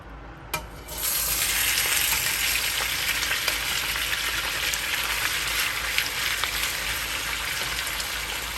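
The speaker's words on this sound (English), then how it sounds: "add our mackerel to the oil" Canned mackerel, brine drained, dropped into hot oil in a pan, a brief clatter then a steady, loud crackling sizzle with scattered pops continuing evenly to the end, no talking.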